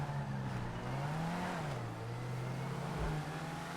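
A car engine in a video game drones and rises and falls in pitch as it accelerates, a steady, fairly quiet hum lasting a few seconds with no speech.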